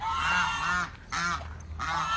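Ducks on a farm give loud, nearby nasal quacks in three distinct bursts, each a rapid run of honking calls separated by brief pauses.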